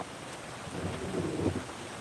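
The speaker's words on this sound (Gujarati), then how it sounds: "વરસાદ હજી ચાલુ થયો છે મિત્રો" Steady rain falls in a storm with strong wind, a broad, even hiss of moderate loudness with a low rumbling swell in the middle, and no voices.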